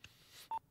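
A telephone keypad gives a single clear dialing tone, short and fairly quiet, after a faint click, with no talking.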